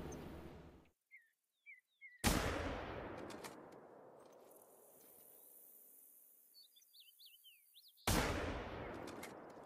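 Rifle shots fired while hunting outdoors, two loud close reports each trailing into a long rolling echo, with a few chirping bird calls in the quiet gap between them.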